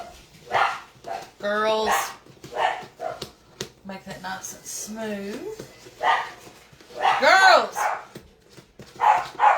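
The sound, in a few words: dogs barking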